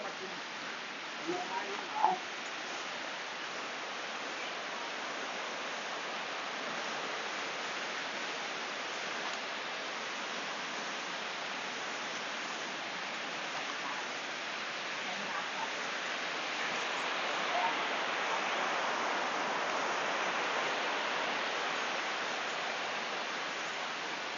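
Tat Yai waterfall in Phetchabun, Thailand, roars as a broad, steady rush of falling water heard from a path to its lower tier, constant and fairly loud throughout with a brief rustle near the start.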